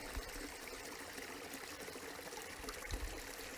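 Small waterfall on an eroded creek at the north end of rural land, a soft continuous trickle and splash of falling water heard close but faint, steady throughout with no voices.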